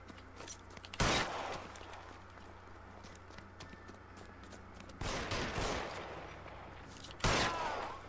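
Gunshots in the crime video game L.A. Noire: three loud sharp blasts spaced several seconds apart, each with a short ringing tail, over a low game background.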